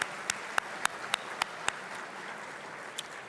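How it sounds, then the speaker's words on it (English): Scattered audience applause at a State of the City event, thin and quiet, with a few sharp isolated claps standing out over a soft, steady room wash. "can we have another round of applause for all of the individuals who participated in the opening ceremony?"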